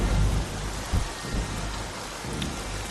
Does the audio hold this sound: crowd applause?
no